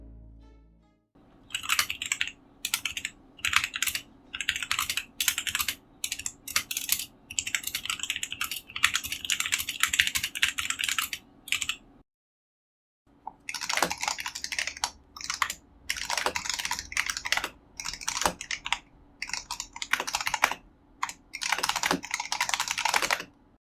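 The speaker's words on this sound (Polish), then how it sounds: "A tutaj macie małe porównanie tej klawiatury, jak ona aktualnie brzmi, oraz również porównanie do mojej aktualnej, czyli Razer Huntsman Elite." Rapid typing clatters on a repaired mechanical keyboard, then after a short silence on a Razer Huntsman Elite, dense close keystrokes in two long runs with no talking.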